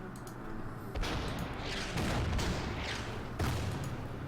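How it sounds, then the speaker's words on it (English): Artillery fire in the Order of Battle war game, a series of booming blasts at roughly one-second intervals, each one loud and followed by a short rumbling decay, with no voices. "Do some counter battery artillery fire and destroy these guys."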